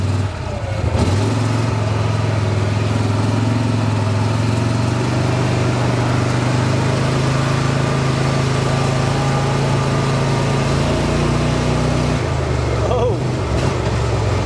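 A Mahindra Retriever 750 UTV engine runs at full throttle in high range, a steady, loud, close droning hum that holds nearly unchanged for the whole stretch.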